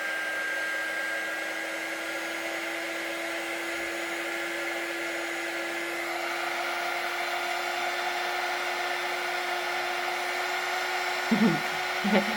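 A heat tool blows a continuous steady whir with a whining tone while warming a doily template, running alone for several seconds before a couple of brief knocks near the end.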